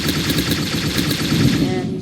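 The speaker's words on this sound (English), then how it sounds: "I think I'm gonna wait and shoot that boy down" Rapid automatic gunfire in the Unity FPS Microgame shooter, a loud, steady stream of quick shots that continues throughout, heard close.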